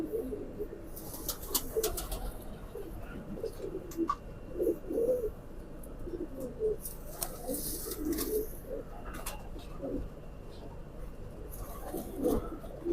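Kamagar pigeons cooing repeatedly in soft, low throaty calls spaced through the scene, moderately close, over light background noise.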